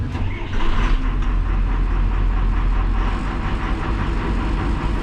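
A Cummins diesel engine in a crop sprayer rumbles steadily just after starting up, a loud, close, continuous low drone with a slight rhythmic pulse and no talk over it.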